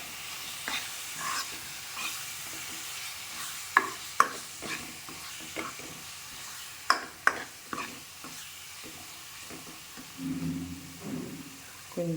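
Chili powder fries in a pan for a chicken and potato curry, a low sizzle under repeated scraping strokes of a spoon, each stir a short, close rasp at an uneven pace.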